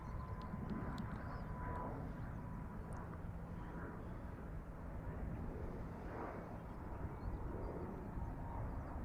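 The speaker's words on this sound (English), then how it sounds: "Transavia from Paris, 320 Neo." A Transavia Airbus A320neo from Paris passes at Dublin Airport, a low, distant engine rumble holding steady for several seconds with faint outdoor background and no talk.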